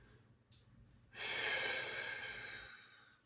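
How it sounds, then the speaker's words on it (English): Deep breaths blown out during a Pilates resistance-band workout: a short puff, then one long, steady exhale that swells and fades over more than a second, close and breathy with no talk. "Maybe grab a couple of really big releasing exhales. Just blow it out."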